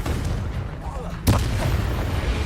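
A Confringo blasting spell goes off in Hogwarts Legacy as one sharp burst midway, over a continuous low rumble of game background sound.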